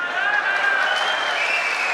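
A political rally crowd claps continuously in dense, even applause that fills the whole stretch at steady loudness, with a faint voice mixed underneath.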